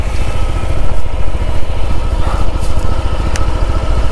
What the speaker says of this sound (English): I'm riding my